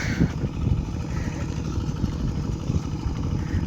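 A farm tractor's engine runs on a field in the evening, a steady low, chugging rumble that stays loud and even throughout, with no voices over it.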